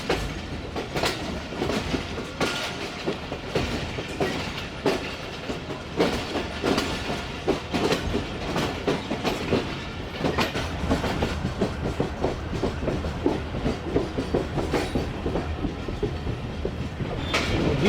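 Tezgam passenger train in economy class running steadily, its coaches giving a continuous clickety-clack of wheels over rail joints under a broad rumble, loud and close throughout with no talk.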